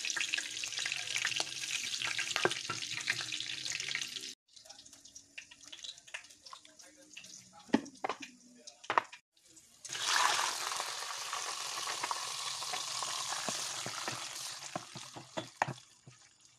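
Clam meat sautéing in a pan gives a steady, close sizzle with scraping and stirring clatter. Two brief pauses break it before the frying returns at full strength.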